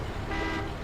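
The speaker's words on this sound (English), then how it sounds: "Let's honk the horn a bit to warn our comrades that a heavy vehicle is coming through" A heavy military vehicle's horn honking in the video game Battlefield Yugoslavia; a single loud, sustained toot close up, steady for its short length with no talk over it.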